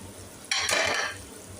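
Ingredients tipped into a hot frying pan: a sudden loud sizzling hiss after a quiet start, with a brief clatter of utensil on the pan, then a gradual fade.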